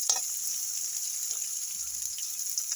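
Small onions (shallots) sautéing in a pan give a steady, even sizzling hiss that stays level throughout, with no voices over it.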